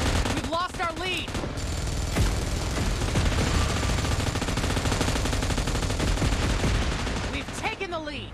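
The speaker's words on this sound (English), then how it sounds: "Fire on this target!" Dense gunfire and automatic weapon bursts from the video game EVOGROUND rattle continuously through a loud battle, with game voices and effects layered over the shooting.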